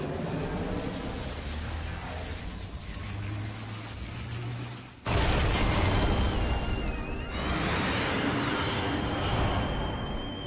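Power bomb explosions in Metroid Prime 2: Echoes, a sustained loud roaring blast that suddenly swells into a bigger detonation midway, with a rising whine over the rumble.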